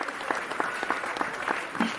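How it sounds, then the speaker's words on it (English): A single person claps in a steady, even rhythm, about seven close claps, at an event with Tiffany Campbell and professional Black men, with faint murmur in the background. "Let me get my real clap going"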